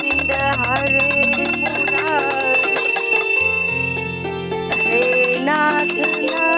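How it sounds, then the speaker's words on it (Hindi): A temple bell rings during a Hindu prayer at home, bright and sustained. It rings repeatedly over a continuous musical backdrop, loud and close, with a brief dip midway. "मंदिर की घंटी बजानी है।"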